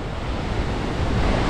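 A waterfall near Badrinath rushes in a constant roaring wash of falling water, loud and close, with cold mist in the air and no voices over it.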